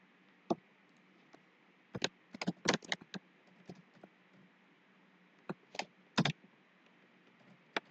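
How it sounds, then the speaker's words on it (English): Several keystrokes on a computer keyboard while a Git configuration command is typed, quiet clicks coming in short bursts with pauses between them and no talk. "Now here type this command."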